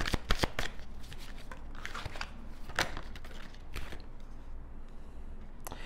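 Tarot cards being shuffled by hand, a rapid run of crisp riffling flicks at the start followed by sporadic slaps and snaps of the deck, close and fairly quiet with no talking.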